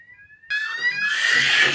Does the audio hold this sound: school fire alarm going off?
yes